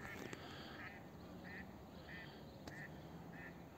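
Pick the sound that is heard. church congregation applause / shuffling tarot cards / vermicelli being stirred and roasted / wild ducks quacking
wild ducks quacking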